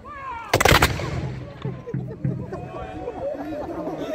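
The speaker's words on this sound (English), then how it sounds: "You're gonna shoot the guns, it's gonna be really loud." Black-powder guns firing at a Civil War reenactment at Nottingham Castle: one loud volley close by, then several further sharp reports echoing, with crowd chatter throughout.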